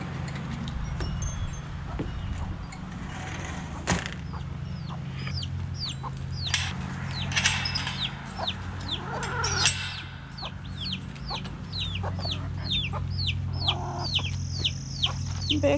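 Chickens cluck and chatter continuously at moderate distance, with a rooster crowing briefly over a steady low background hum.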